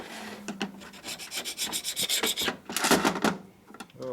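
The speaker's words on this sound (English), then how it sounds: "This is a solid carbide scraper." A solid carbide scraper rasps against metal on a 1972 Harley-Davidson XL Ironhead Sportster clutch primary, giving a quick run of close, gritty scraping strokes in an irregular rhythm with brief pauses.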